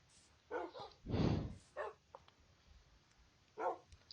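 A dog in the video game Minecraft gives a few short, faint barks and yips spaced irregularly over a few seconds against a quiet background.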